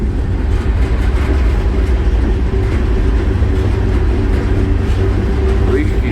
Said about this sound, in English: At least he's got smooth rolling axles. It's an empty grainer.